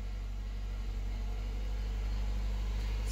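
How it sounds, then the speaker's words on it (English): A Honda Civic EK hatchback engine running steadily with a loud throwout bearing, giving a constant low drone and hum that holds evenly throughout with no voices. "that throwout bearing still sounds pretty loud even though I changed it"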